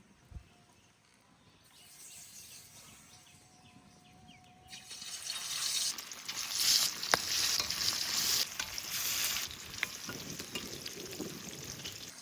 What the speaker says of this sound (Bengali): তেল ভালো করে গরম করে নিয়েছি, এবার মাছ দিয়ে দেবো।